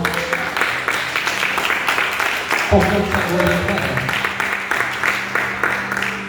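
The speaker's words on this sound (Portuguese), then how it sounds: "dá uma linda salva de palmas" A church congregation claps during a sermon, dense rhythmic applause running throughout while a preacher's amplified voice speaks over it.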